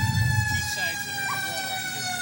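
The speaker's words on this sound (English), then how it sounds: "Followed closely behind by the Fire Department ladder truck, ambulance, and engine." A fire department ladder truck, ambulance and engine roll by in a Memorial Day parade, their steady siren wail sounding loudly and continuously throughout.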